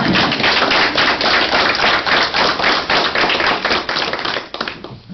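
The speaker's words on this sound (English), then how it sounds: "Let's give him an applause." A room at a village council meeting fills with hearty applause, a dense rhythmic run of claps close and loud throughout that thins out and fades near the end.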